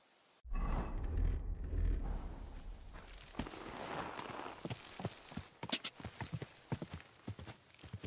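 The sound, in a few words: horse hooves trotting in video game Kingdom Come Deliverance 2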